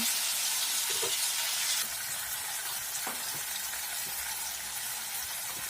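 A prawn masala base cooks in a pan with green chillies, turmeric, chilli powder, cumin and coriander, giving a continuous close sizzle with occasional soft stirring knocks.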